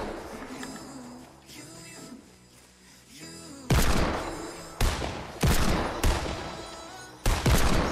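Rapid gunfire in the Fortnite video game, including assault rifle shots, crackles as loud sharp bursts repeating every second or so over a busy game soundscape, close and punchy.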